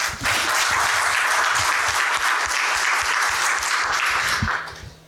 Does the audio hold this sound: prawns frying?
no